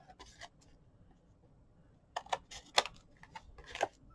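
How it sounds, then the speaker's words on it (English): Scissors snip through chipboard while trimming corners of a coffee box, giving quiet, sharp clipped cuts: one early, then a cluster of several crisp snips near the end, in a mostly silent room. "rest your scissors up against the chipboard, cut a slight triangle off"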